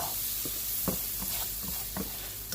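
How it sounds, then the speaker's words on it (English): A spoon stirs roast beef gravy in a pot, producing soft rhythmic scraping and sloshing strokes at close range over a continuous simmering sizzle. "Stir it up one more time."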